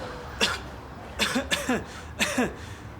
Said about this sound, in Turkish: Öksür evladım.